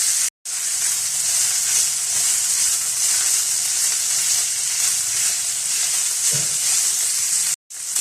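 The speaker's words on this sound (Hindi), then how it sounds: "कीमे को अच्छा सा फ्राई कर लेंगे" Minced meat (keema) sizzles steadily in a pan for a Ramadan stuffed ring roll filling, a loud continuous hiss and crackle with a brief stir near the middle and two short breaks in the sound.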